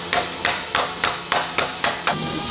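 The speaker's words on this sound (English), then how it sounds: "A little smack with the hammer." Eight sharp hammer taps on metal ring out in a steady rhythm, close and loud, each strike leaving a short bright ring.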